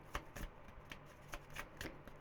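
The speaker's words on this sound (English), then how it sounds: "This deck is really difficult to shuffle because it's so thin." A thin tarot deck being shuffled by hand, giving a run of quick papery riffles and soft card slaps in an uneven rhythm, close and fairly quiet with no talking.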